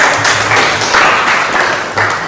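A classroom group claps during a biology teaching session, a loud, steady patter of many hands lasting a couple of seconds with slight swells.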